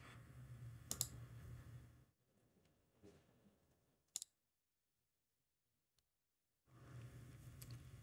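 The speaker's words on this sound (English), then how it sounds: "I'm going to click canvas." A computer mouse gives a few sharp, isolated clicks, a quick double click followed by another later, close and faint amid soft room noise and stretches of near silence.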